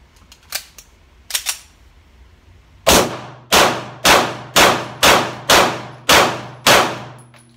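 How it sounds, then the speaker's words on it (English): Shots from a Kimber Team Match II 9mm 1911 pistol fired slow and deliberate: two isolated sharp cracks, then a string of eight loud reports spaced about half a second apart, each with a short decaying ring, no talking. "The first step in the test is 8 rounds slow fire."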